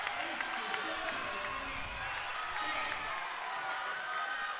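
A volleyball crowd cheers after an ace serve in a Saint Martin's versus Central Washington match, a steady, moderately distant roar of voices with a commentator talking over it.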